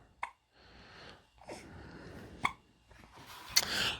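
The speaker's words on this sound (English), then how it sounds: "So if I could just stop getting these hiccups" A person's hiccups: several short, sharp, isolated hiccups spaced a second or more apart, heard close and fairly loud over a low background hiss, with no talking.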